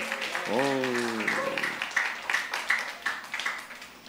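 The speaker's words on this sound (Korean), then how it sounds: "우리 감사와 기쁨의 박수" A church congregation gives applause of thanks and joy, light scattered clapping rising after a voice at the start, fairly soft and patchy.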